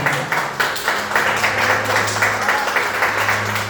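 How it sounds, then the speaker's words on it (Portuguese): A standing church congregation in a Portuguese-language service gives a round of applause, many hands clapping in a steady rhythmic pattern over a low sustained hum from instruments or a sound system. "dê uma salva de palmas ao nome do Senhor Jesus"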